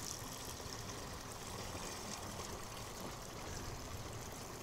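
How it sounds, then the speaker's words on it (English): Dechlorinated water pours steadily into a container, making a continuous, fairly faint rushing trickle with no talk. "And then we'll just fill that up with some dechlorinated water."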